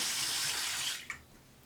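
Running tap water splashes steadily while face cleanser is rinsed off at a sink, loud and continuous for about a second before cutting off to near quiet, with one brief splash after.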